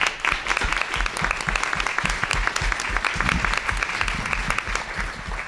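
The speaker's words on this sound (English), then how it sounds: "just want to give them a round of applause and say thanks" Steady, dense applause from a room of people at a business alumni breakfast, many hands clapping together at a fairly loud level without a break for the full stretch.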